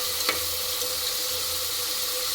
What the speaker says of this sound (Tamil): வெங்காயம், தக்காளி வதங்கினதுக்கு அப்புறமா நம்ம இஞ்சி பூண்டு பேஸ்ட் போட்டு வதக்கிக்கலாம்.